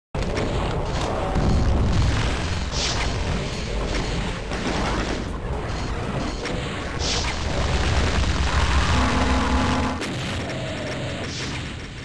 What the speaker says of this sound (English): 30 archviles just blasted the Icon of Sin by attacking Doomguy's corpse at the target position that we discussed